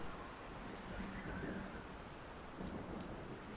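Heavy rain from a thunderstorm in Red Dead Redemption 2 hisses steadily under a low rumbling wash, faint and even, with no voices.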